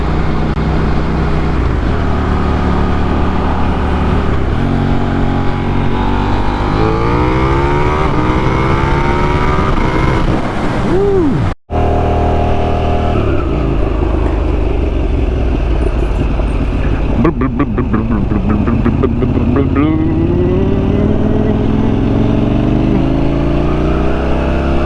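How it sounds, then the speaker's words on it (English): A KTM Duke 890R motorcycle engine revs hard and pulls through the gears, its pitch climbing in long sweeps, with a brief cut in sound around the midpoint. The engine stays loud and close the whole time. "second gear rips on this bike are absolutely fun"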